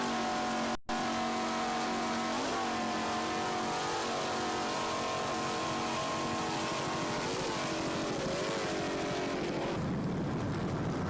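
Racing powerboat engines roar loudly and continuously in a sustained drone, with pitch rising and falling as the throttle changes.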